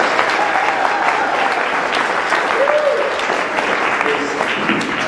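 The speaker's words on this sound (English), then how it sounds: "let's give a round of applause to Senator Bob Smith" Audience applause for Senator Bob Smith at a New Jersey Assembly District 17 campaign event, a steady dense wash of clapping holding for the whole stretch with faint voices mixed in.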